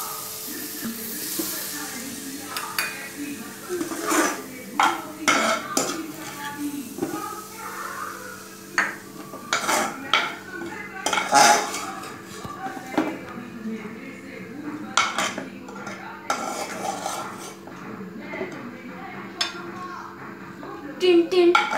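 A cooked paneer dish is served from a pan onto a plate, with scattered clinks and scrapes of metal utensils against cookware over about twenty seconds and faint hissing steam between them.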